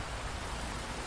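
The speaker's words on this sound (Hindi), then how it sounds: "बारिश बहुत तेज थी।" Heavy rain falling in an animated story scene, a dense, even hiss of steady downpour with no break and no voices.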